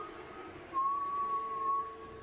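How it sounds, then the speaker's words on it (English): A single thin, steady whistle in a horror video game holds one high pitch for over a second, faint and distant against a quiet background. "The only presence felt is a subtle whistle in the distance."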